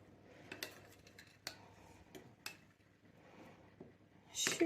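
A utensil stirs dry yeast into warm milk in a bowl, giving light scraping and clinking taps at an irregular pace, close and fairly quiet, ending in a louder clatter.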